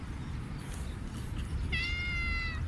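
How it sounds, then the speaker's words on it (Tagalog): Several cats meow near a person, with a clear high, wavering meow rising above steady background noise toward the end. "Hala, oh, yung mga pusa nilalapitan nila ako."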